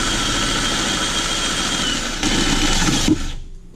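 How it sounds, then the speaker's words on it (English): A drill bores through the oil pan of a turbo Miata with a loud, steady whirring grind that shifts in pitch partway through and winds down and stops at the end. "So now let's start drilling the oil pan."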